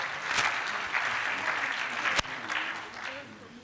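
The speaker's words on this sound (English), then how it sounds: "A better round of applause for them" A youth forum audience gives a round of applause for a group after a photo, steady crowd clapping with a single sharp knock partway through.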